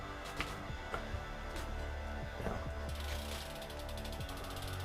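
A BMX integrated headset spins freely, giving a quick, faint ticking and ratcheting patter with a few sharper clicks, close up and with no voices.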